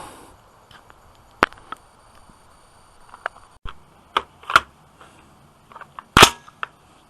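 AR-15 rifle shots ring out one at a time with gaps between them, sharp cracks at varying loudness, some close and loud and others softer, the last shot the strongest, with quiet background between and no talking.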